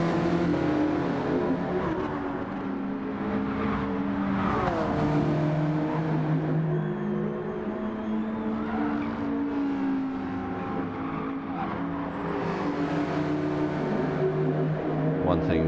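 Group 4 race cars in Gran Turismo 7 roar through a manufacturers cup race, a continuous engine drone that rises and falls with revving while a commentator talks over it.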